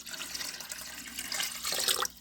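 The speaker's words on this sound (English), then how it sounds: "So let's pour the inaugural pitcher of water in here." Water is poured from a pitcher into an Alexa Pure gravity water filter, a steady close splashing and trickling that swells louder near the end before stopping abruptly.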